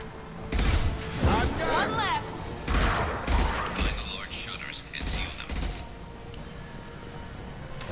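Bursts of gunfire from the Mass Effect 2 video game crack out in repeated loud volleys over about eight seconds, mixed with thuds and what sounds like voices.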